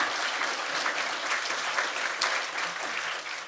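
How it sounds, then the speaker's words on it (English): A round of applause from the audience at a political issues forum on tariffs in Wisconsin, dense sustained clapping throughout, fairly near and even. "Would you please give a round of applause to Cory,"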